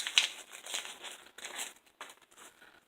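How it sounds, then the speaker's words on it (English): Crinkly plastic artificial flowers from Dollar Tree rustle and crackle as they are handled for a Valentine's craft, a soft, continuous near crinkling with small irregular bursts and no talking. "Then we're just going to take our Dollar Tree flowers."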